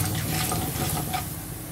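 Mustard seeds, urad dal, chana dal and cumin temper in hot oil, giving a soft, steady sizzle and crackle that continues evenly with no voices.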